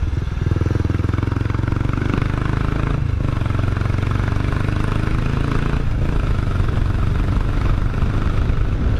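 A Kawasaki Estrella BJ250A motorcycle climbs a hill under load, its single-cylinder engine thumping loud and steady at close range throughout, with wind roar mixed in.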